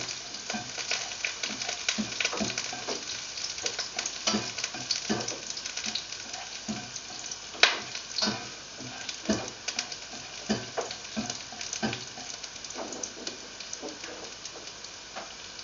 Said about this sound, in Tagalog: Now the oil is hot, we can now saute off the garlic until it turns golden brown.